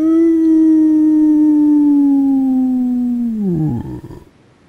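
A person voices a long, sustained imitation of a howl during a tabletop role-playing session, one steady tone that slides downward and breaks off at the end.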